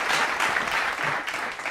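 A live audience at a comedy talk-show taping claps steadily for a couple of seconds, a dense, fairly close patter of many hands with a faint voice underneath.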